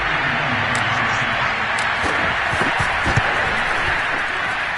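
A stadium crowd at an NFL football game between the Dolphins and Patriots roars in a loud, continuous wash of noise, with faint talk and bits of clapping beneath it.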